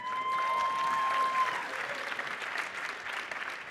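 A film festival audience at BIFF 2012 breaks into sustained applause, a dense wash of clapping from a crowd that fades slightly toward the end, with a brief tonal whistle or squeal at the start.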